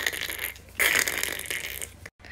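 A heated hair-straightening brush sweeps through hair close up, giving a dense, scratchy bristle rustle in two or three strokes, the middle one louder, with a brief pause near the end.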